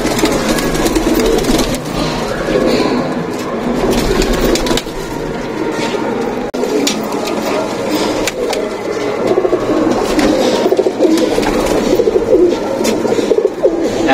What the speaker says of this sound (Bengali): এত সুন্দর ট্রেনিং দেওয়া আছে পায়রাদের